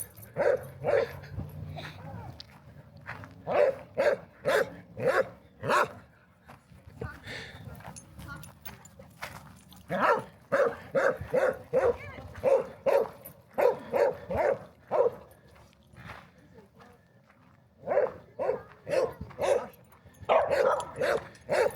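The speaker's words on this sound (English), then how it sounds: "she can come down from her barking fits too on her own" Dog barking in rapid bursts of sharp, loud barks close by, in repeated fits separated by short pauses, with a voice speaking between some of the bursts.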